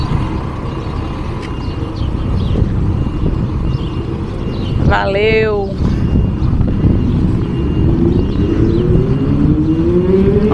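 A car pulling away on a road trip, its engine rumbling steadily throughout with a rising drone building near the end, while voices talk over it and a brief whistle-like tone cuts in midway.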